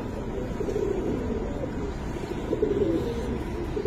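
Giribaz pigeons of a silver Palla line coo repeatedly in a loft, soft low throaty calls rising and falling across the clip over a steady background rumble.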